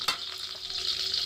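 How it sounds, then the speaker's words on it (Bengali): An egg roll frying in hot oil gives a loud, continuous crackling sizzle close up, with a brief scrape of a utensil at the start. "সেম পদ্ধতিতে আবার একটা আমি ভেজে নিচ্ছি"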